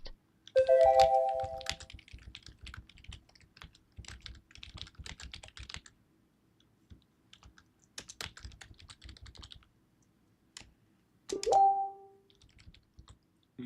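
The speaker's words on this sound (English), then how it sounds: "You might hear me typing." Typing on a computer keyboard in a live futures trading session: bursts of quick, close clicking keystrokes run through most of the clip, with a pause midway and a couple of brief electronic chimes near the start and end.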